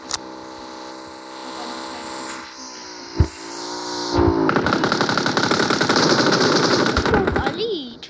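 Rapid automatic gunfire from the PUBG Mobile battle-royale game, loud dense bursts filling the second half after quieter game ambience and a single sharp shot, with a voice briefly heard.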